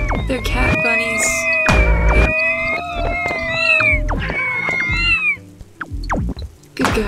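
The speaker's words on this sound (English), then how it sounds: "They're cats. They're cat bunnies." Cat bunnies in the video game Braid let out a series of drawn-out, wavering meows, loud and layered with other game sounds, while people talk over them.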